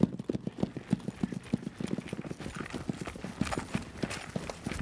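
Hooves of a young stallion on his first ride clip-clop in a steady, close rhythm, each footfall sharp and distinct for the length of the stretch.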